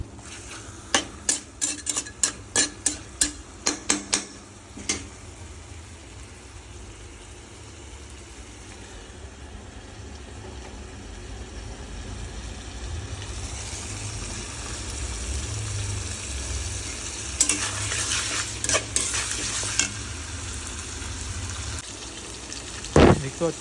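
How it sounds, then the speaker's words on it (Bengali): Chicken kosha curry stirred in a pan on a low flame, with a burst of quick metal spoon clinks against the pan at the start, then soft sizzling and scraping, and another cluster of clinks later. "এবার লো করার পরে আস্তে আস্তে করে নাড়াচড়া করে দিই।"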